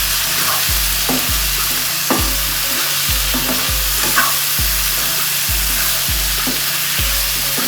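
Chicken curry with curry leaves is stirred and fried in a pan. Steady broadband sizzle runs throughout, with regular rhythmic scraping strokes roughly every 0.7 seconds, close and fairly loud, no voices.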